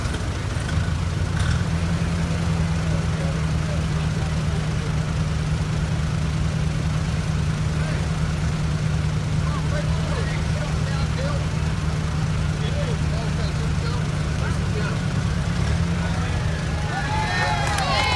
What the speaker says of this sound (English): Matt Kirk is on the 1937 Farmall F20